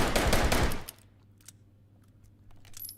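A fast burst of automatic gunfire in the VR shooter H3VR, loud and rapid for under a second, then cutting off to near quiet with a few faint clicks and handling noises.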